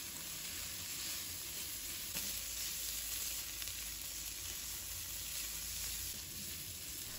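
Onion strips and garlic slices stir-fried in a wok over medium heat give a steady, loud, close sizzle that runs unbroken throughout, with no voices.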